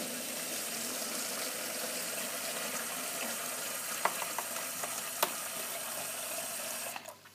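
Water runs steadily into a container, a continuous close hiss of filling with a few small clinks and taps, cutting off near the end.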